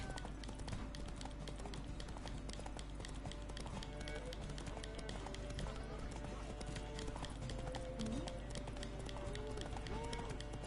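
Rapid hoofbeats of a galloping horse in The Witcher 3: Wild Hunt pound steadily throughout, dense and continuous, with a busy mix of other game sounds and voices underneath.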